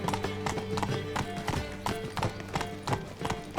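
Roach the horse galloping in The Witcher 3, a fast close rhythmic clatter of hooves, steady and loud through the whole short stretch.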